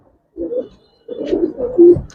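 Giribaz pigeons give two close, soft cooing bursts, a short one followed by a longer rolling coo after a brief pause.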